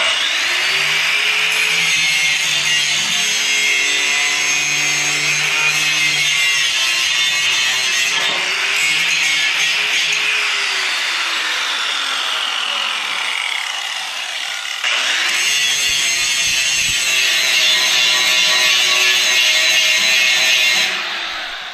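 A power grinder works over a weld on a snow blade, a loud continuous high-pitched grinding rasp that shifts as pressure changes, briefly easing before resuming at full intensity, no voices.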